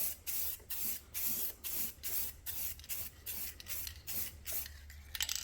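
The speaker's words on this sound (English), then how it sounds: "let me do a test of the spray, make sure the pattern looks good" Short bursts of spray paint hiss from a can over a cut vinyl stencil, about a dozen quick puffs in an uneven rhythm, close and fairly quiet with no voices.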